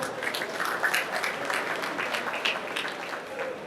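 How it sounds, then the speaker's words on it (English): Audience applause at a conference, a steady wash of clapping from a crowd that holds at an even level for a few seconds, with faint voices mixed in. "please a round of applause for the patron of Appman."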